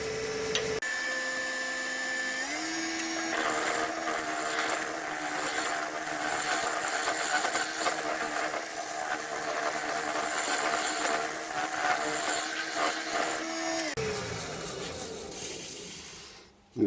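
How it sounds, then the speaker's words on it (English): A round carbide cutter shaves a wooden vase spinning on a lathe, making a steady, continuous whirring and scraping drone with a faint tone that shifts partway through before the cut stops near the end. "I'm just going on to the round carbide cutter now"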